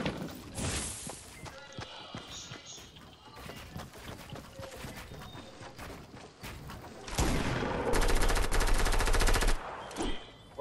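Fortnite gunfire crackles in rapid bursts and single shots, ending in a sustained loud volley, with footsteps and game noises around it and players talking excitedly throughout.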